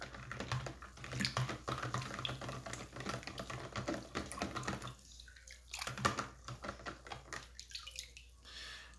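An old toy is rinsed in a bin of fresh water, giving irregular close splashing, sloshing and dripping with brief quieter pauses between bursts.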